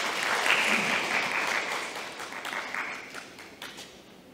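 Applause from the audience at a Seoul forum on bulky and electronic waste after a presentation, a full, steady round of clapping that slowly thins toward the end, with faint talk underneath.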